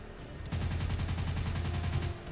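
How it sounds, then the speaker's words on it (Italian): Rapid burst of gunfire in the video game Minecraft, a fast regular volley of shots lasting under two seconds, loud and close with no talk over it. "Mi ha sparato!"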